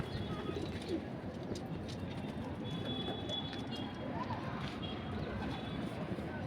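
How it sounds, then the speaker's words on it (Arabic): Large pigeons coo softly amid a busy outdoor backdrop of steady noise and faint chatter, the calls low, repeated and partly masked rather than close and clear. "نبذه من الحمام الكبير"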